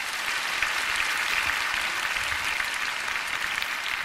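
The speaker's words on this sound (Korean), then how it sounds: "이렇게 큰 박수로 환영해 주셔서 정말 감사드립니다" A large church prayer-meeting audience claps steadily in welcome for a visiting missionary from India, a dense, continuous wash of applause at even loudness throughout, with no voices over it.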